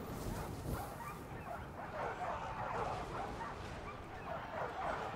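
War dogs in the online battle game Total War Arena yip, whimper and bark amid a busy clash of combat noise, the dog sounds mixed in at moderate level with no clear speech.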